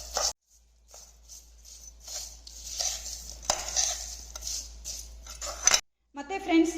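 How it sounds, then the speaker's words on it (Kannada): Cut pieces of raw mango are tossed and stirred with salt in a bowl, giving soft scraping, rustling sounds in uneven bursts with brief silent gaps. "ಈಗ ನೋಡಿ ಈ ಸೈಜಿಗೆ ಮಾವಿನಕಾಯಿನ ಕಟ್ ಮಾಡಿಕೊಂಡು ಈ ಉಪ್ಪಿನ ಜೊತೆಗೆ ಚೆನ್ನಾಗಿ ಮಿಕ್ಸ್ ಮಾಡ್ಕೊಳ್ಬೇಕು"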